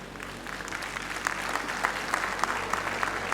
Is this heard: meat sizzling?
no